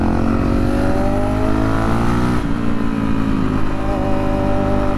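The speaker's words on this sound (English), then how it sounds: "That Corvette sounds cool" A Chevrolet Corvette engine rumbles loudly and steadily close by, with a deep, continuous drone whose pitch sweeps and shifts as the car drives past.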